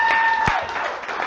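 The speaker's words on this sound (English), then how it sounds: "Everybody give Jason a big round of applause." Audience applause for Jason Allen, a new guy being welcomed at a Friday night gathering, a short burst of clapping that stays steady and fairly loud throughout.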